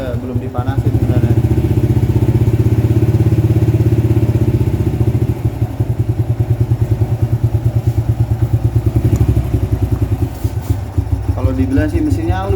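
Old Honda C70 motorcycle engine idling close by, a loud even low putter that runs throughout with steady rhythm, with someone speaking over it.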